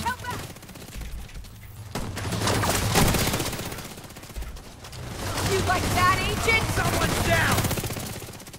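Gunfire in The Division 2 during a boss fight in a museum, repeated bursts of loud automatic shooting that swell and fade in waves, with brief lulls between volleys.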